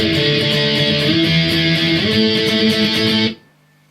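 Distorted electric guitar plays a song's verse riff, dense chugging power chords shifting pitch midway, loud and close, then stopping sharply with a brief ringing tail.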